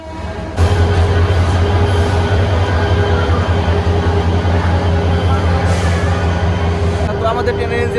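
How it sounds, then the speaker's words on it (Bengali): A locomotive, engine number 13 of the 26 series, idles loudly with a deep, steady diesel rumble after being coupled to the Jamalpur Express at a station, with metallic clanks near the end. "তো আমাদের ট্রেনের ইঞ্জিন লাগানো হলো এইমাত্র"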